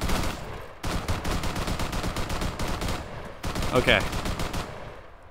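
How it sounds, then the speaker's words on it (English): Rapid bursts of automatic gunfire in Arma 3, a military shooter, crackle continuously with a short gap, then resume loud and dense, with a brief spoken word mixed in. "Oh, we're taking fire."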